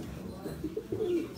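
A Turkish play pigeon (oyun kuşu) at a salon auction in Samsun gives a few soft, low coos near the microphone over faint room noise.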